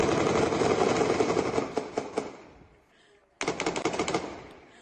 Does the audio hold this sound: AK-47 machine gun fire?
yes